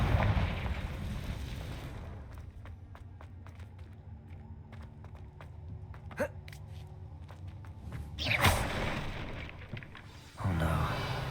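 Confringo blast spells bursting in Hogwarts Legacy during a fight with a giant spider, a few sharp fiery cracks and whooshes at moderate volume over scattered clicks and a low rumble, no voices.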